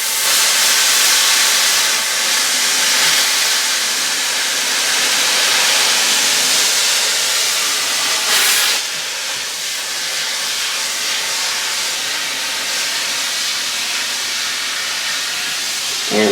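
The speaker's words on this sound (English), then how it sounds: "add my steam." A hot clothes iron releases a sustained, loud hiss of steam while pressing layered fabric, with a brief stronger burst near the end, and no voices over it.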